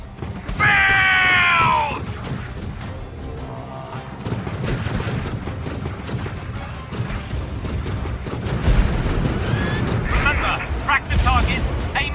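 Combat in The Falconeer video game: a dense, loud wash of rumbling explosions and gunfire with shrill whistling tones, game voices and effects layered throughout.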